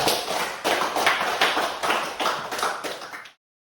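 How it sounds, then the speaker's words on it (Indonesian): A classroom of students clapping together, dense rapid hand claps in a sustained near burst that stops abruptly. "Tepuk tangan buat kalian"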